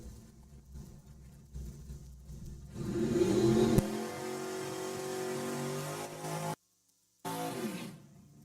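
Drag racing car accelerating down the strip at a Mo-Kan Dragway qualifying session, a fairly faint engine note that builds to a revving peak, then a whining tone that fades, cuts out briefly and returns.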